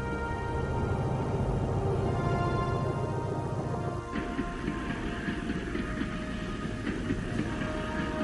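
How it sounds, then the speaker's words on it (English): Military trains loaded with troops, tanks and field guns roll through North Vietnam, a steady rumbling rail noise with rhythmic clatter that shifts in tone partway through. "trains loaded with troops, tanks, and field guns could move with no risk from attack"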